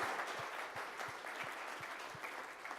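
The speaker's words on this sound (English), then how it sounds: "Let's give Nate a big round of applause." Steady, fairly quiet applause from a conference audience after a talk, a dense wash of clapping with no voices over it.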